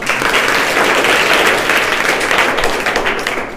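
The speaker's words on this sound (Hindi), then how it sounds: "ताली बजाइए" Students in a government school classroom clap together in a short, loud, dense burst of applause that stays close and fills the room.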